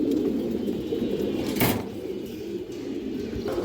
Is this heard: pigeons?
yes